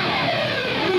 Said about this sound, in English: You have to do a pick slide correctly, and it comes out like this.